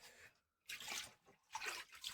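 Cattle drinking water from a trough in a traditional Konkan cattle shed, making faint, close watery slurps and splashes in two short bursts after a brief pause.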